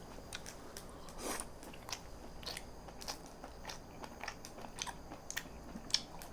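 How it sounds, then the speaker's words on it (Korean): Someone chews a bite of wagyu beef cooked on an iron plate, with faint, close mouth sounds and small repeated crunchy bites in an otherwise quiet setting. "와규 먹어보겠습니다"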